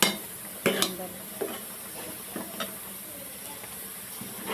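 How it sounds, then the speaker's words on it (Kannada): A pot of bitter gourd sambar simmering on medium heat, giving a steady hiss and soft bubbling with a few light clinks of a ladle or lid, close by, with no voices. "ಬೇಯಿಸ್ಬಿಟ್ಟಿದೆ ನೋಡಿ ಉಬ್ಬು ಬರ್ತಾ ಇದೆ ಬೇಯ್ತಾ ಇದೆ"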